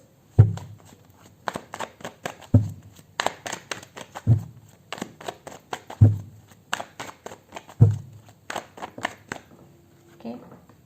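Tarot cards shuffled for a reading: a run of crisp riffling bursts with sharp thumps roughly every two seconds, close and fairly loud, no talking.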